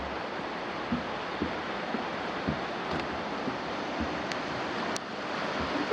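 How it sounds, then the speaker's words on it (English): Water from falls rushes steadily beneath a bridge near Crabtree Falls in the Blue Ridge Mountains, a constant broadband roar with faint wind and a couple of brief thin squeaks. "we've got a cool bridge going over the water that comes down off the falls up there"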